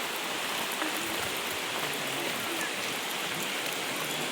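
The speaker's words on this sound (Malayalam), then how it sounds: "നല്ല മഴ പെയ്യുന്നുണ്ട്" Heavy rain pours down steadily at Peravoor, Kerala, a dense, even hiss of drops hitting surfaces nearby with no pauses.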